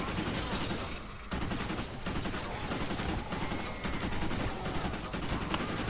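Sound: Sunbeam Pain Train assault rifle firing at husks in Fortnite video game

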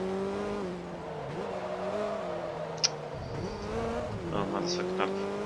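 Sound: VW Golf race car driving in Forza Motorsport 2 video game

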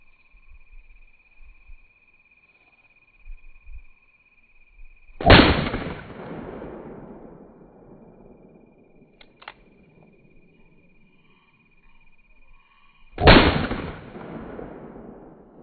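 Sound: 357 Magnum gunshots

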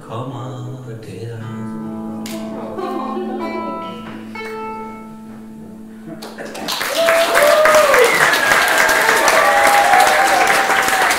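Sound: concert audience applause

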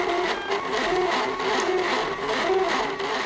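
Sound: 3D printer printing

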